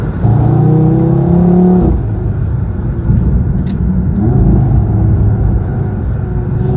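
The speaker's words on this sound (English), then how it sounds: "I'm driving the third and last generation of Audi TT." Third-generation Audi TT engine while driving, a steady close rumbling hum with a brief rising rev near the start before settling into a continuous drone.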